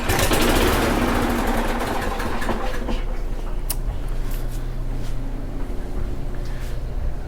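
A Craftsman lawn mower with a faulty throttle cable and carburetor runs roughly, loud and close at first, then loses power and sputters down to a low, uneven idle rumble, with no talking.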